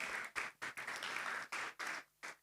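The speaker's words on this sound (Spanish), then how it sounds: "Le damos un aplauso a los amigos de Luis Simón." A church congregation applauds, a soft, somewhat distant patter of clapping that comes in several short bursts separated by brief gaps.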